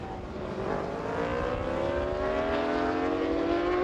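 Yamaha race motorbikes run at Chang International Circuit during an Asia Road Racing Championship round, taking it gently around an oil spill; a steady engine drone rises in pitch as the bikes accelerate, continuous and fairly close.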